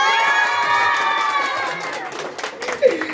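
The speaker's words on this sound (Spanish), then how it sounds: "Chécate, el grito de todos los niños." A crowd of children shouts and cheers loudly at a clown show, a sustained chorus of high voices that swells and then breaks into scattered excited yells nearby.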